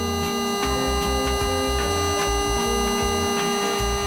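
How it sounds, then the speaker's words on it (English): An electric paddleboard pump hums steadily with a constant buzzing tone and a rhythmic pulsing thump repeating about twice a second, close and continuous. "The pump will first sound something like this."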